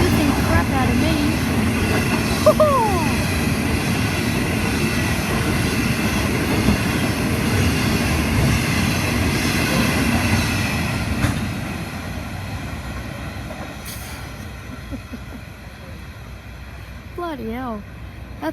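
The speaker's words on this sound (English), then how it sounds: "That's the Pacific National Ore train from Port Kembla to Unanderra." Pacific National ore train between Port Kembla and Unanderra rumbling past close by with heavy wagon clatter, then gradually receding into quieter ambience with faint bird calls.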